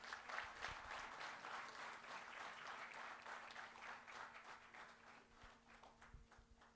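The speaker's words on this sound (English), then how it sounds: "May we have a round of applause," Sustained applause from the audience at a national tax conference, even and moderately distant, clapping steadily throughout with no speech over it.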